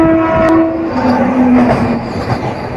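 Narasapur to Guntur passenger train horn blares in sustained tones over the steady rumble and clatter of the moving carriages, loud and close.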